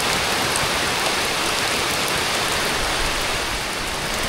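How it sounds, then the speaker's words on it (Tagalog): Heavy rain pouring down at a car-camping site in Indang, Cavite, pattering on a tarp, a dense, loud, constant hiss close by with no voices. "Inulan na naman tayo."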